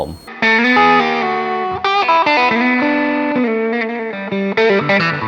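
A heavily distorted electric guitar, a budget Telecaster-style Passion BPS-TLC, plays sustained, gritty chords and notes with a thick, saturated tone, loud and close.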